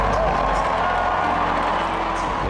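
Supporters cheer at the Democrats' election night headquarters for Hillary Clinton, a dense, steady crowd roar with clapping and whoops, loud and continuous from a large gathering.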